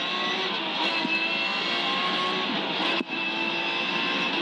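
Onboard a rally car at full speed: a loud, steady engine roar held near constant pitch, with road and cabin noise throughout and one brief dip near the end, with no voices audible.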